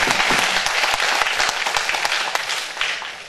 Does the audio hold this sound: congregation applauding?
yes